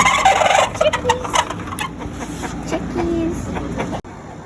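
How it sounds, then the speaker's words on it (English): Backyard chickens clucking in a messy yard, a busy overlapping chorus of short clucks and calls close by, loudest at the start and thinning out toward the end, with faint background noise and no talk. "These are my chickens."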